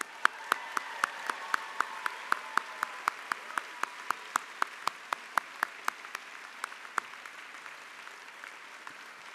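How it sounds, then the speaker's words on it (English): A small number of people clapping at a medical school commencement, sharp evenly spaced claps over a faint background murmur, thinning and slowing toward the end. "one more round of applause for everyone"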